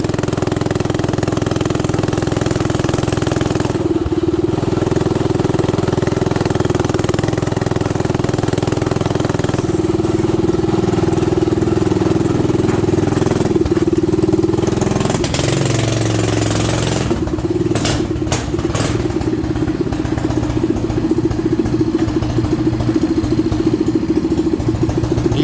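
A Coleman CT200U mini bike engine idling nearby, a loud steady small-engine putter that holds throughout and shifts tone briefly around midway, followed by a few sharp knocks near the end.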